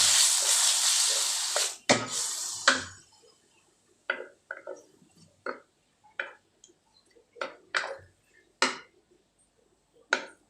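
Squid dropped into a pan of golden fried garlic sets off a loud broadband sizzle for about two seconds, then fades into a string of short clinks and taps that repeat roughly once a second.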